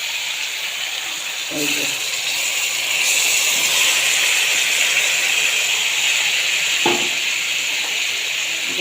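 Chicken pieces sizzle and hiss loudly as they go into a hot pan for a home-cooked Bengali meal, the steady frying roar swelling after a few seconds and holding, with brief speech over it near the start and end.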